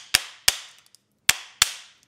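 Soy wax candle moulds banged hard against a surface to release the candles: four sharp, loud knocks in two pairs with a pause between, each ringing out briefly, with no talk.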